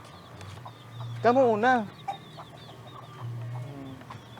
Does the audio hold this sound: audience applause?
no